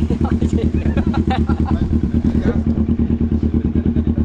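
A 650cc big bike motorcycle engine revs loudly and close, a dense rapid pulsing throb with steady rhythm throughout, with some faint background voices beneath.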